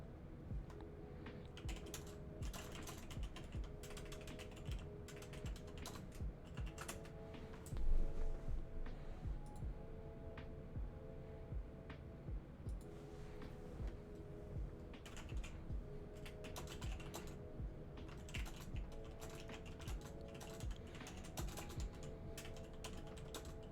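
Continuous clicking and clacking of a computer keyboard being typed on, fairly close and steady, with faster bursts of keystrokes throughout and no talking.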